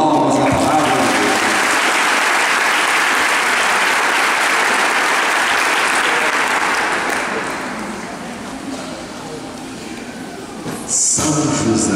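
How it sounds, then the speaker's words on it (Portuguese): A church congregation claps after a reading at a Mass for the Feast of Saint Joseph, dense sustained applause fading near the end before a brief voice resumes. "Uma salva de palmas à palavra de Deus."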